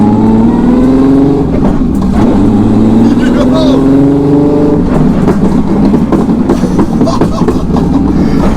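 A turbocharged VW R36 hot hatch engine droning as it accelerates, its pitch rising steadily, loud and close, with a voice talking over it.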